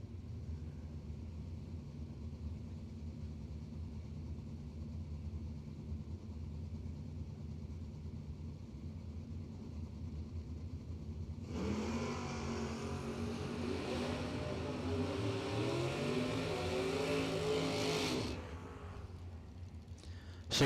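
Firebird drag race car at a Door Wars drag racing event, a distant engine drone that swells into a loud, brief run lasting several seconds before dropping back to background rumble.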